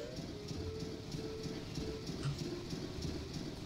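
A train chugging in the Banjo-Tooie video game, heard as a steady rhythmic chuffing and clattering loop with a sustained tone, loud and continuous throughout.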